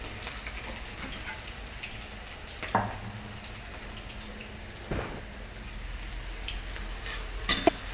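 Boiled masoor dal added to a pan of fried spices and stirred, with a steady soft sizzle throughout and a few sharper clinks and scrapes from the spoon.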